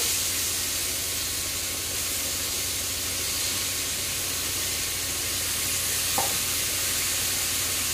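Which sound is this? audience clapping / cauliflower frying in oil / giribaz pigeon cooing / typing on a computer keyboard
cauliflower frying in oil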